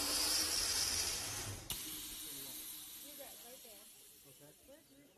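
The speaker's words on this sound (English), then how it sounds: "Occlude the circuit with your thumb before gently pressing the emergency O2." Emergency oxygen flush on an anaesthetic re-breathing circuit, outlet occluded by thumb, gives a strong steady hiss that cuts off abruptly near the start, leaving faint background noise and quiet murmuring.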